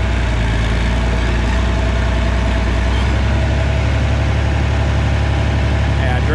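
A steady Oliver tractor engine runs at a constant idle-like rumble with the over-under transmission shifted into direct, a loud continuous low drone with no talk over it.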